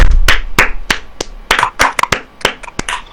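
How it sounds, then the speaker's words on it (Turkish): Loud, close hand claps come in an uneven series of about a dozen sharp slaps, a small group clapping at home rather than a crowd. "Alkışlıyoruz"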